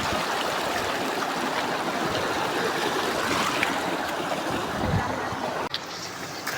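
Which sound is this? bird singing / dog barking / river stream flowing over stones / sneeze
river stream flowing over stones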